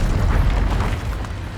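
Confringo explosive spell blasts in Hogwarts Legacy, a deep continuous rumbling boom with dense low-end energy and crackling bursts, loud and sustained without pause.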